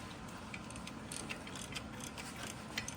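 Ratcheting and clicking from tools tightening the flywheel bolts on a 1969 Pontiac GTO during a Muncie 4-speed install, a faint continuous mechanical clatter over a hissy background with no one speaking.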